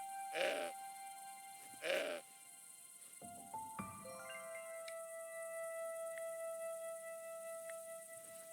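A goat in the Broken Sword 5 video game bleats twice in quick succession, each bleat short and close, over soft, sustained game music tones.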